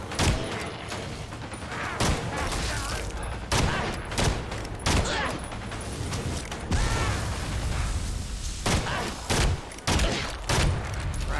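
Rapid bursts of gunfire from a gun in Evil Dead: The Game, a horror video game, crack out repeatedly in short volleys with mechanical clicks and reload sounds between them, loud and close.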